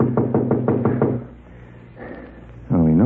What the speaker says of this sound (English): Now we'll play a little knock-knock.